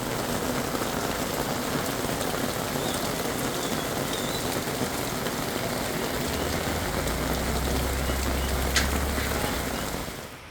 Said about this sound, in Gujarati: શહેરમાં પણ ધોધમાર વરસાદ પડતા